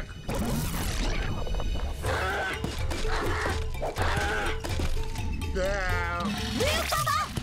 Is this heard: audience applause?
no